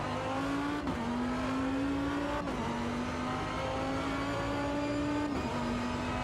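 Race car in the Automobilista 2 sim game, 2005 endurance content, driven hard with a loud sustained engine drone that climbs through the gears, with sharp dips at each upshift, continuous and close with no talking.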